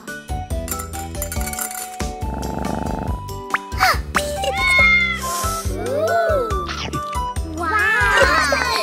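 A cartoon kitten meows repeatedly in high, wavering cries, mixed with a busy background of music-like tones and clinks.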